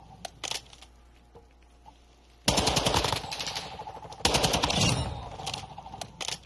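Automatic gunfire from a video game, starting with a few scattered shots and then two long, loud rattling bursts of rapid fire that fill most of the clip.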